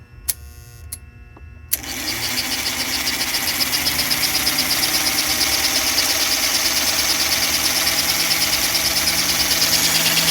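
A 1952 #342 switcher model locomotive motor running under power, a steady loud whirring hum that rises from a brief start and holds constant throughout, with no talking.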